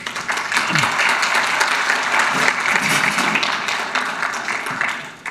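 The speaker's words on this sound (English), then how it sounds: "A round of applause." Audience at a PyCon AU 2023 conference talk breaking into a sustained round of applause, dense clapping from a large crowd that holds steady before tapering off near the end.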